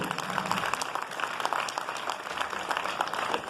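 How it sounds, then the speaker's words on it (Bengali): An audience at a Bangladesh human rights commission anniversary ceremony in Barishal applauds two presidents with dense, sustained clapping that continues evenly throughout. "আমরা দুই সভাপতির জন্য করতালি দিচ্ছি জোরে"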